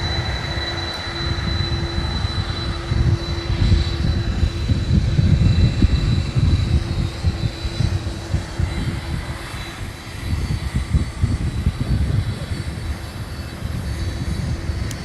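Air Force One, a presidential jet, at Palm Beach International Airport, a steady, loud roar of jet engines that swells and eases slightly throughout, heard from nearby with no voices.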